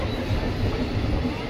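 Passenger train carriage in motion at night: a steady low rumble with faint rhythmic wheel clatter, close and constant, with a hint of conversation in the background.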